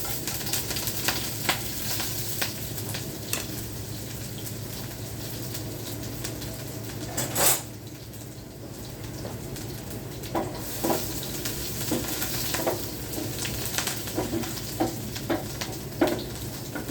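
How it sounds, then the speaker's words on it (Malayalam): Mustard seeds splutter in hot oil with garlic and green chillies for a spinach thoran, a continuous sizzle dotted with many sharp popping crackles, close and fairly loud. "കടുക് പൊട്ടി കേട്ടോ."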